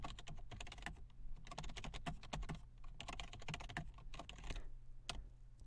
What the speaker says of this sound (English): so I'll type in a title here.